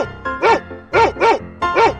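A cartoon dog barks in loud, bright, voiced bursts, five barks in about two seconds in an uneven rhythm, with two close pairs and a final bark, clear and close with no talking.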